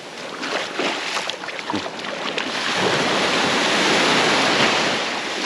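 Steady wash of gentle waves breaking on a pink beach shore at Siruma, Camarines Sur, a soft continuous surf with some wind noise, no voices.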